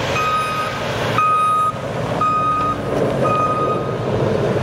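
A snow plow truck's reversing beeper sounds loud and close during snow plowing, repeating steady high electronic beeps about once a second over a low engine rumble.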